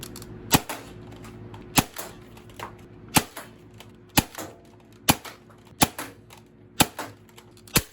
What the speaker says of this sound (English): Yeah, I'm gonna dry fire it.